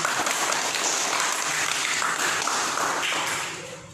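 A classroom of students applauds a student group after their presentation, steady dense clapping throughout that tapers off at the end.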